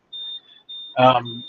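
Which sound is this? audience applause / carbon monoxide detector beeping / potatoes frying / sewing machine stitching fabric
carbon monoxide detector beeping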